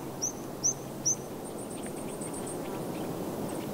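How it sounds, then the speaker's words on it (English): Three sharp, high calls from mountain birds in the cold air of Taiwan's Hehuan Mountains ring out one after another, followed by a thin, rapid run of high twittering notes, fairly faint over a soft outdoor hush. "You will hear all kinds of high mountain birds singing in the cold mountain"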